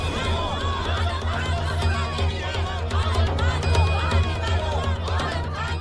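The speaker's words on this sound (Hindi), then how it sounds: "देखिए अपनी आंखों से आदम कितनी भीड़ इकट्ठा है।" A large gathered crowd chatters in a dense, continuous hubbub of overlapping voices, held at steady volume under a low droning backdrop.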